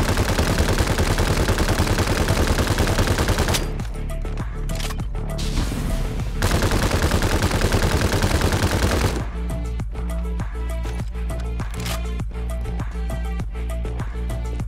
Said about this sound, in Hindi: कार पे मैंने दबक के फायर किया।